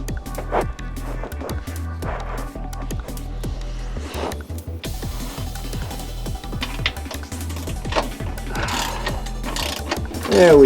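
A hand ratchet clicks in steady rapid runs while removing exhaust Y-pipe bolts under a Nissan 350Z, close and loud, with pauses and metallic shifts between strokes.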